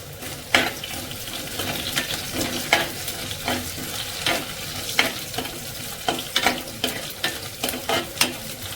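Green chillies fry in oil for a mackerel curry, stirred with a utensil in a clay pot, giving a steady close sizzle broken by repeated sharp scraping strokes.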